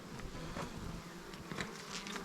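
Honey bees swarm around an opened hive at a winery farm, their buzzing forming a steady, noisy drone with no voices present.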